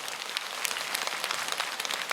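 Lecture audience giving steady applause, a dense patter of many hands clapping at moderate distance, even and sustained with no talk.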